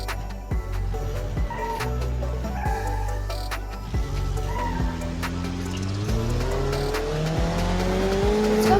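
A damaged Gavril Vertex car is driven in the BeamNG.drive video game, with an engine note that rises and falls through gear changes, bursts of tire squeal and a continuous loud road roar.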